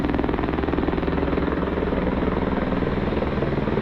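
A cargo helicopter carrying a slung load thunders close by near the Grimsel Pass, its rotor chopping in a fast, steady pulse under a loud, continuous engine roar.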